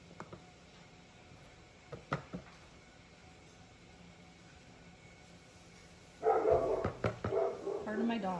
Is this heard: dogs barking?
yes